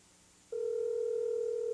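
A touch-tone telephone dial tone starts abruptly after a short quiet moment, then holds as a steady, loud, continuous hum to the end.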